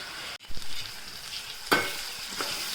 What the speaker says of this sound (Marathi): इथे आपण परत एकदा टोमॅटो आणि लसूण तेलामध्ये चांगलं अल्टीपल्टी करून घेऊयात